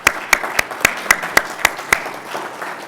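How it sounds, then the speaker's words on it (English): Scattered hand claps from a conference audience at a CPAC 2013 panel in Washington, DC, about eight sharp claps spaced at a steady rhythm, fairly near and modest in volume, like sparse applause rather than a full ovation. "So a round of applause for our panel."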